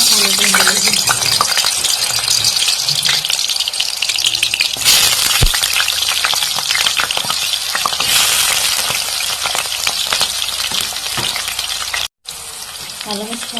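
Potatoes dropped into hot oil in a pan, a loud bright steady sizzle with rattling and stirring clatter, continuing strongly after a momentary break near the end.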